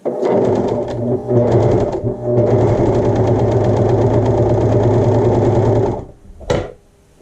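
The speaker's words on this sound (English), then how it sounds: "You pull all those threads through while you're sewing." Home overlock sewing machine stitching a fabric swatch, running steadily at high speed for about six seconds with a rapid mechanical chatter, stopping briefly near the start, then a short clunk as it halts.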